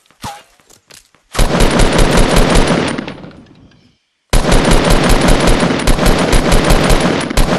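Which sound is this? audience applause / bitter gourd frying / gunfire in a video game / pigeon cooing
gunfire in a video game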